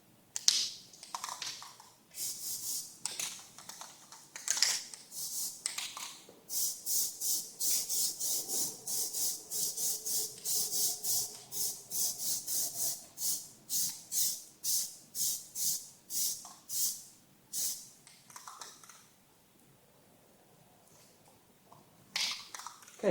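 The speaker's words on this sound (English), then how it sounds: "we're just going to do light coats on the spokes" Rattle cans of Plasti Dip spray light coats onto car wheel spokes in a long series of short, sharp hissing bursts, close and rhythmic, with brief pauses between some passes.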